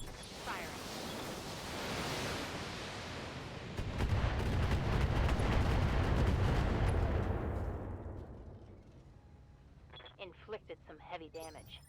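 Mech weapons firing in the BattleTech strategy video game, a dense roaring volley of blasts and rumbling impacts building to a loud sustained barrage, then fading as a voice speaks at the end.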